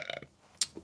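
A single short burp bursts out near the end, loud and close, after a brief patch of low voice-like sound.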